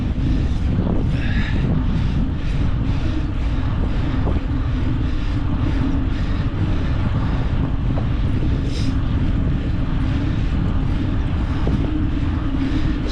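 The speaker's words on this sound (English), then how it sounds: "This wind sucks." Steady, loud wind buffets the microphone throughout a Trek bicycle ride, a constant low roar and rumble with no break and no voices.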